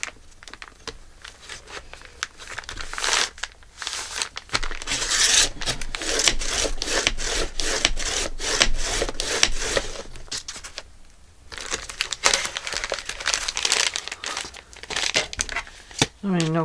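Paper being cut for a folio journal, with steady scraping and crinkling strokes running almost throughout, while a person talks over it.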